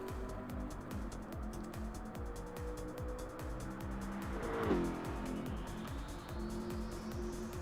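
A GT supercar laps a track during a practice run in a racing video game. The engine gives a rapid, repeating, revving drone, with a louder swell and brief tire squeal midway.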